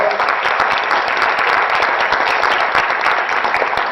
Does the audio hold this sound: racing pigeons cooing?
no